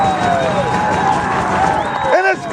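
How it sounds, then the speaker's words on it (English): At an All-Ireland League rugby playoff at Alcast Park, a crowd claps and cheers loudly after a try, a steady roar of applause and shouts heard close, with a commentator talking over it. "as you can hear, folks, the crowd is absolutely elated"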